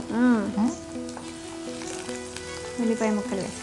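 Chopped onions hit a hot pan with garlic, giving a steady sizzle that runs throughout, with a voice talking over the frying at the start and again near the end.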